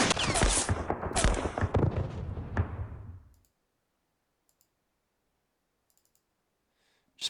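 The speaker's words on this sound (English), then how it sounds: "Shoot the guy." Dense bursts of rapid gunfire and crackling shots in a World War II Philippines strategy game, loud and continuous for about three seconds before cutting to near silence, with a faint click at the end.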